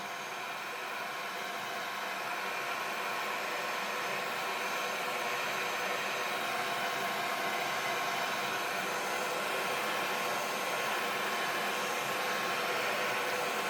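A heat tool blows hot air to dry watercolour paint on a stamped card, a constant close whooshing roar that stays even from start to finish.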